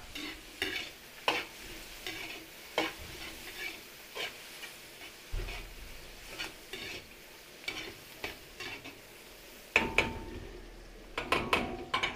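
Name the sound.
chorizo sautéing in a pan for kaldereta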